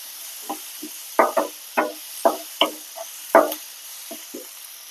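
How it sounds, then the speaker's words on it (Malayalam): Ingredients are sautéed in a pan for grinding, heard as about a dozen distinct, fairly close spatula scrapes and knocks in an uneven rhythm over a quiet background with little sizzle. "ചാത്തി വെച്ചിട്ട് നന്നായി ഒന്ന് വഴറ്റിയെടുക്കാം"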